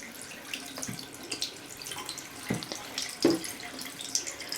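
Tap water running steadily over a Sony Xperia Z2 phone during a water test, a continuous close splashing hiss with a few louder drips and splatters, no talk.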